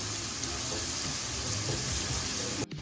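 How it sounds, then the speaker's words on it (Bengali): Chopped onion frying in hot oil on a high gas flame, a steady loud hiss and sizzle that runs unbroken before cutting off abruptly near the end. "এখন আমি পেঁয়াজ কুচিটা দিয়ে দিচ্ছি। দেখুন এখন আমি পেঁয়াজটা নেড়ে চেড়ে গ্যাসটা হাইতে রেখে গোল্ডেন করে ভেজে নেব।"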